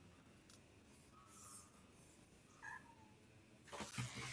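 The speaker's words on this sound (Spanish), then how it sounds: "el gato está acá." A cat lets out a couple of faint, brief meows over a quiet room hum during an online climatology class, followed by some soft rustling.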